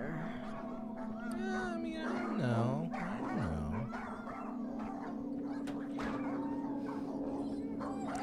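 Ghost dog in the horror video game Claire giving a few short wavering whimpers and yips, set against a droning eerie ambient game soundscape with talk mixed in.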